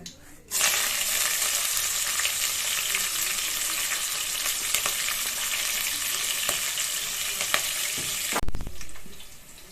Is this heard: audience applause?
no